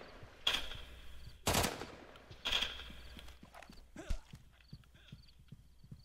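Gunfire in the video game BlackLands: several sharp, loud bursts of shots spaced over a few seconds, with fainter clatter and game ambience between them.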